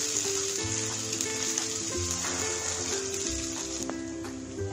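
Ginger garlic paste and cashew paste sizzle steadily in a pan of hot oil while an egg korma is cooked, a constant close hiss with light crackle and no talk.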